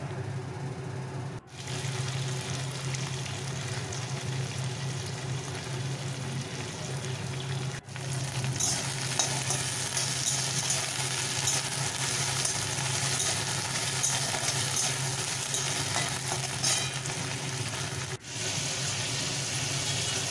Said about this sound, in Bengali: আর এর সাথে ঢ্যাঁড়সটা ভেজে তুললাম।